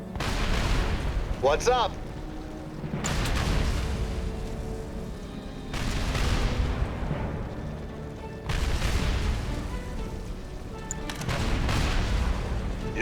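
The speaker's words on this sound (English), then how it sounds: "have your hydrofoil fire on that Soviet apocalypse tank on the shore" In Red Alert 3, a hydrofoil opens fire on a Soviet Apocalypse tank on the shore, giving a series of heavy booming shots spaced a few seconds apart, with a brief spoken line between them.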